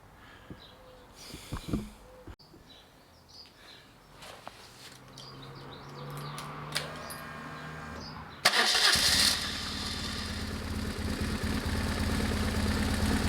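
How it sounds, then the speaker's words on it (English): A BMW 1150GS motorcycle engine cranks after some faint handling noises, then catches and runs at a loud, steady idle through the final few seconds. "The engine has to be running, of course."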